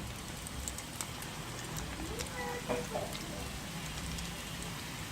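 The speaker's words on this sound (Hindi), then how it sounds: "तेल को हमने अच्छे से गरम करना है और इसमें वॉन्गटॉन्ग्स जो है अपने फ्राई करने हैं।" Mayo chicken wontons deep-fry in hot oil, giving a steady, dense crackling sizzle that runs evenly through the whole moment at moderate volume, with no clear voice on top.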